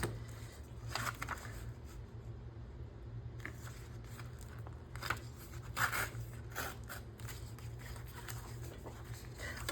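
Scissors snip and trim a junk mail envelope close up, giving faint, irregular cuts and paper crinkles over a low steady background hum.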